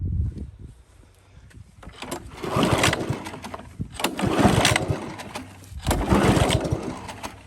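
A Honda HRB215 lawn mower being pull-started outdoors on full choke with fresh gas, giving several rough bursts of engine sputter and cranking noise that rise and fall without settling into a steady run.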